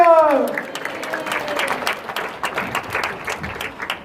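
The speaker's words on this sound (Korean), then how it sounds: "우리 박수로 환영하겠습니다" A church congregation at a Sunday worship service claps to welcome the preacher, a steady spread of applause following a brief sung or spoken tone at the start, continuing evenly through the whole stretch.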